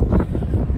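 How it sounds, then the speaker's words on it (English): Gusts of strong wind on a beach buffet the microphone in low, rumbling bursts, a rough continuous roar outdoors, blowing sand off the beach. "It is currently so windy that it's blowing sand off the beach"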